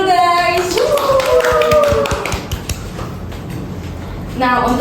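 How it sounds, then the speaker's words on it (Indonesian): A short round of hand clapping from a small audience at an academic talk show, loud and close, with voices speaking over the start and the end. "Tepuk tangan dulu guys"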